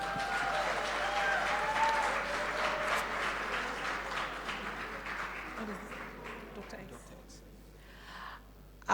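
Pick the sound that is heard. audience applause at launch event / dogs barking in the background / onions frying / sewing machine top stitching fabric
audience applause at launch event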